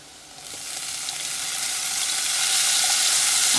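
Squeezed tamarind water hits a hot pan with a loud sizzle that starts sharply and then swells into a steady, bright hiss, with no speech.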